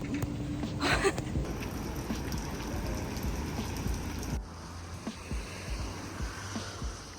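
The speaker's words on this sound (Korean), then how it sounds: "밖에 뛰러 나오면 비가 온다니까요" Steady rain falling outdoors, a dense broadband patter that is loud at first, then drops a little lower and continues evenly with scattered closer drops, with no talk.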